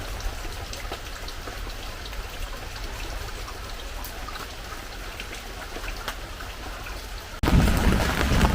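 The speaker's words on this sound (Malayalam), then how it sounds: "ഇന്നും ചെറിയ മഴ തുടങ്ങിയിട്ടുണ്ട് വലിയ കാര്യമായിട്ട് ശക്തിയൊന്നുമില്ല" Light rain falls steadily outside a home, giving a soft, even patter with scattered drop ticks throughout, and a sudden louder rustle near the end.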